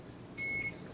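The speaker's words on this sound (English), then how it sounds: "we're going to turn our alarm off" Brewing timer alarm sounding as a single steady electronic tone lasting about a third of a second, moderately clear over quiet room noise, with no talking.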